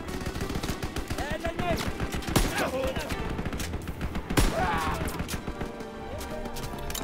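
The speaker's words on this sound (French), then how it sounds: "Je tire sur des gens, mais je sais même pas s'ils sont contre moi" Gunfire in the World War II shooter Call of Duty: WWII, with rapid bursts of automatic fire and sharp single shots from battle, loud and dense, and a couple of heavier cracks standing out over the ongoing din.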